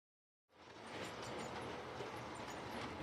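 A model railway layout with two GWR pannier tank locomotives, one with a spark arrestor, hauling a long rake of vans; after a short silence, a continuous rumbling roll with faint rhythmic clatter rises and holds steady.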